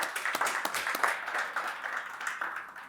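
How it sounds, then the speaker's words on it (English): An audience at a built-environment industry event clapping steadily for a speaker, a mid-sized crowd's even patter of applause heard at moderate distance for a few seconds. "Applause for him, please."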